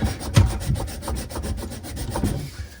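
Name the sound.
sanding pipe ends by hand for compression angle stops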